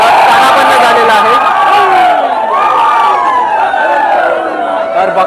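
Loud, dense crowd cheering and shouting fills the Shri Kalbhairav temple during a Mahalakshmi chariot procession festival in Kelshi, with sustained voices rising and falling up close.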